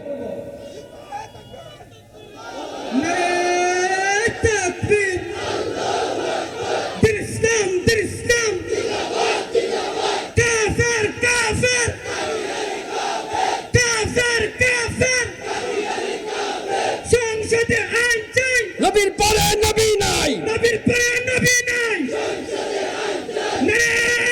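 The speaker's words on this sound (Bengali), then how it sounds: "তাকবীরের স্লোগানে পুরো আকাশ পাতাল প্রকম্পিত হবে এমন একটা তাকবীর দিন" A large crowd at an Islamic religious gathering roars the takbir slogan in unison, loud massed shouting in repeated rising waves, led by a voice calling over the crowd, sustained throughout.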